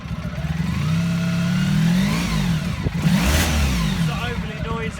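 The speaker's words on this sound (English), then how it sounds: "I'm going to start the bike, show you how good." A Honda Pan European ST1100 motorcycle with stainless exhausts runs nearby, its engine revving up and easing back in smooth swells, with a person talking over it.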